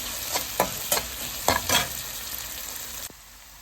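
Okra (lady finger) sautéing with salt in a pan, a steady low sizzle broken by several sharp spatula scrapes and stirs, then going quieter at the end.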